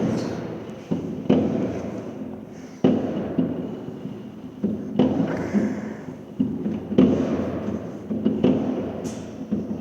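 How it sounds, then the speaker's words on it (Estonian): Fireworks rockets launched and bursting at a New Year celebration, with repeated sharp thumps and crackling bangs at irregular intervals, mid-distance, carrying over a rumbling outdoor background. "Seal lastakse ka rakette."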